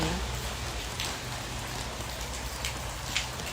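Rain falls steadily on white plumeria flowers and leaves, a dense, even hiss of drops spread across the whole stretch, near and constant with no voices.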